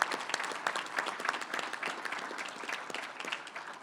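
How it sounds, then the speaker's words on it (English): A short burst of audience applause at a governor's address to a state employees' gathering, with distinct individual claps within the dense, fairly close clapping. "Give yourselves a round of applause."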